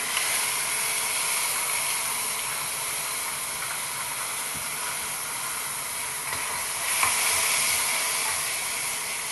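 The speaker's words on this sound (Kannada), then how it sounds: "ಒಗ್ಗರಣೆನ ಹಾಕ್ತಾ ಇದ್ದೀನಿ" A steady, loud hiss of tempering spices sizzling in hot oil for a mango gojju, continuous throughout with a brief surge near the end.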